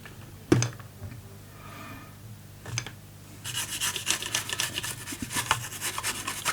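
A brush scrubs corrosive residue off an ASUS GTX960 graphics card circuit board, giving a few isolated scratches and then a sustained run of fast, close rasping strokes.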